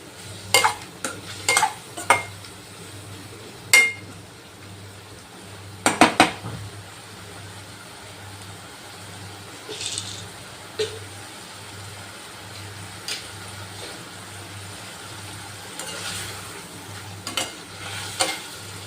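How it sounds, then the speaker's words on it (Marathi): Paneer cubes fry in a pan over a high gas flame with a soft, constant sizzle, broken by sharp clinks and scrapes of a utensil against the pan as the pieces are turned. "हे पनीर जे आहे ना आपल्याला छान असं मस्त फ्राय करून घ्यायचं बघा एकदम मस्त असा याचा कलर चेंज होईपर्यंत याला आपल्याला खाली वर करत फ्राय करून घ्यायचं"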